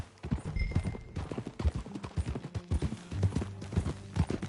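Horse hooves clip-clop in a quick, steady rhythm on hard ground in the video game Red Dead Redemption 2, moderately loud and close, with no voices.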